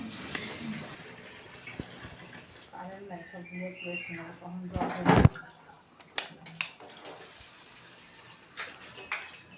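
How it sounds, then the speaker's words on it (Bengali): A cooking pot being rinsed and scrubbed with running tap water in a home kitchen, with splashing and metallic scraping, close and moderately loud, then a sharp clatter of the pot midway, and a voice talking in the background. "একটু যে পাতিলটা পরিষ্কার করছিলাম"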